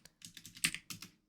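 Quick bursts of keystrokes on a computer keyboard while entering a sudo command on an Ubuntu server, close and fairly quiet, about eight clicks with brief pauses.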